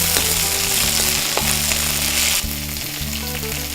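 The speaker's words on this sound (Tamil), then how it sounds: "சும்மா லைட்டாக எண்ணெயில் போட்டு அது சுருங்குற அளவுக்கு வதங்கினா போதும்." Mint leaves sautéing in oil for a pudhina chutney make a steady, close hiss of frying with a few soft stirring touches, loud and continuous with no talk.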